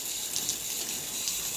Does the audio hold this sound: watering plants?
yes